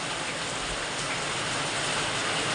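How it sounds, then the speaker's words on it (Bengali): Sudden heavy rain pours down outside a home kitchen during a power cut, a dense, unbroken, fairly loud patter with no talking. "হঠাৎ করে কেমন বৃষ্টিটা চলে এলো না।"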